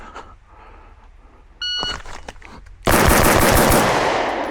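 A timer beeps, then a pistol fires a rapid burst of shots in a bill drill, loud and close, the shots running together at the end.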